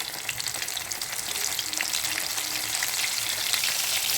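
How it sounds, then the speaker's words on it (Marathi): Bombay duck fish fries in hot oil with a loud, dense, continuous crackling sizzle that fills the whole stretch without any voices. "आता बोंबील तेलात सोडलं"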